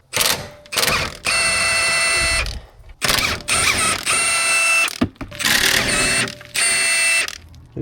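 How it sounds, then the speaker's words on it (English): A regular jack is pumped up under the jacking point of a BMW E90 328xi, in the rain, making repeated loud mechanical ratcheting whirs in bursts separated by short pauses. "I'm actually just going to use a regular jack just underneath that jacking point right there."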